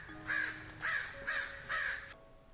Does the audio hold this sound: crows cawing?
yes